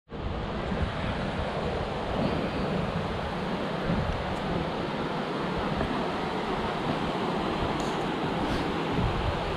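Ocean surf breaking steadily on the beach at Saint Martin's Island, a broad continuous wash of waves with wind rumble across the microphone, loud and close throughout with no voices.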